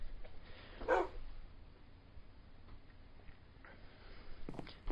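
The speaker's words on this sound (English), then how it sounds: "And the dog came in the house." A dog barks in the Minecraft video game: one sharp, close bark near the start, then soft ticking, and a second brief bark right at the end, with no talking.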